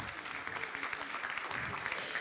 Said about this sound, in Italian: un applauso per voi